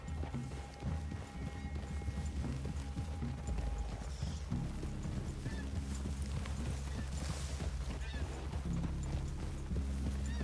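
Horses walking in the video game Red Dead Redemption, hooves clip-clopping in an even rhythm close by, layered over a constant low ambient rumble and occasional faint whinnies.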